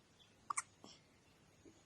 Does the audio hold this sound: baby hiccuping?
yes